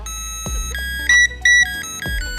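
A gachapon capsule toy shaped like a retro BB Call pager plays its electronic alert: a short run of bright, pure beeping tones in a quick melodic pattern, close and loud, with no talking.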